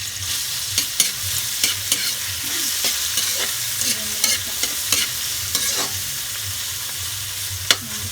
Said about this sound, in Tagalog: pagkagisa nyo ng itong ginger o ng ating luya, ilagay mo ang kamatis